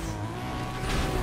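Nissan Skyline engine roaring in the racing game Need for Speed Most Wanted, a steady loud drone with tire noise that swells brighter toward the end, alone with no talk.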